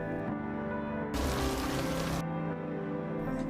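Rain leaking in through a roof falls in a short hissing burst over a low musical hum, the noisy wash starting abruptly and cutting off after about a second.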